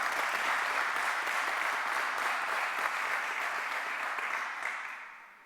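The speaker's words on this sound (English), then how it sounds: "I want to make sure that we give you a round of applause." Audience applause at a HISPA kick-off and recruiting event in Miami, a steady dense wash of clapping hands that holds for several seconds before tapering off at the end.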